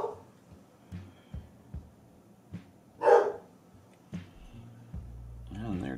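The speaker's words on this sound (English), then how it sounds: "And there goes my dog." A dog barks a few short times at a distance inside a home, the barks scattered and partly masked, with someone talking over them.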